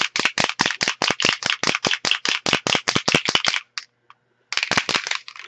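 Vigorous shaking of a Color Shine spray bottle sends the mixing ball clacking loudly and rhythmically up close. A long fast burst stops briefly, and the shaking picks up again for another quick run.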